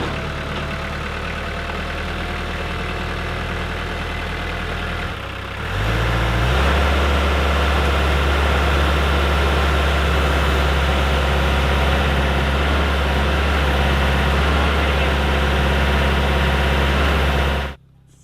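A tractor engine runs at an off-grid workshop site while the arches of a Quonset hut are raised, a loud steady low rumble that steps up after a few seconds and cuts off at the end.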